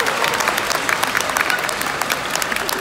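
An opera house audience applauds loudly after a performance, a thick, sustained wall of many hands clapping with no pause throughout.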